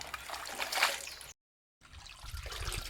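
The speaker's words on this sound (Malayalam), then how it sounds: "നമുക്കിതുപോലെ ഒരു 2 പ്രാവശ്യം വെള്ളം കളഞ്ഞ് 2 പ്രാവശ്യം നമുക്ക് കഴുകിയെടുക്കാം." Dried fish being rinsed in water for pickle, with close splashing and trickling, a brief silent gap, then more sloshing.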